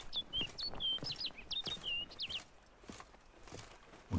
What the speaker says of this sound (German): Ich höre einen Vogel zwitschern.